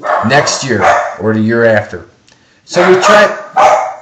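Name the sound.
dogs barking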